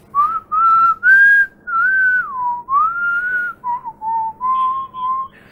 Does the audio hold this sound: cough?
no